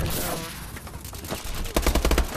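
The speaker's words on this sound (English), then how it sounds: "Somebody's shooting." Gunfire in the Call of Duty: Advanced Warfare multiplayer video game, starting as faint distant shots and building to a loud, close burst of rapid fire near the end.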